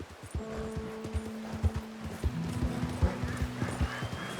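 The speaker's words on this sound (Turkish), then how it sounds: "Bu arada böyle suya girdiğinizde atı yıkamış oluyorsunuz." A horse wading through water in the Red Dead Redemption 2 video game, with steady, evenly spaced hoof strikes close by over a low sustained tonal hum.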